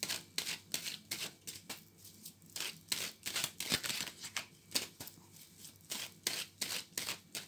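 Tarot cards are shuffled in a steady, rapid riffle of crisp papery flicks and slaps, close and fairly quiet, with no talking.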